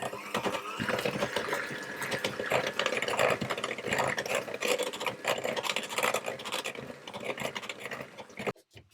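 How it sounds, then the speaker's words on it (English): Buttermilk is stirred into lemon and poppy seed muffin batter in a bowl, giving a dense, continuous close scraping and scratching sound that stops abruptly near the end, with no voices. "And I'll mix it again to get that combined."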